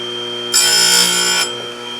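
A Tecomec electric chainsaw sharpener grinds a chain tooth in one loud, bright, high-pitched burst lasting about a second, over a steady motor hum that continues before and after.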